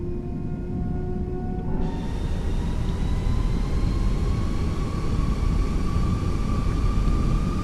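Airliner jet engines on a TAP flight from Lisbon to Porto spooling up for takeoff in a flight simulator, a steady loud broadband roar with rising whine tones that brighten and swell after the first two seconds.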